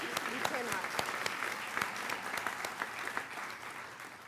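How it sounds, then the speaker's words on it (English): Applause for the inauguration of the first female president of Miles College, a steady crowd clapping with sharp individual claps standing out, moderately distant and without pause throughout. "You can't clap enough for that."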